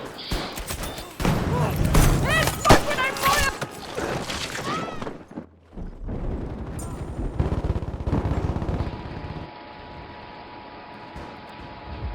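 Machine gun fire in the video game Battlefield V rattles in long, loud bursts with other gunfire and explosions around it, then eases into quieter rumbling battle ambience; someone speaks briefly over it.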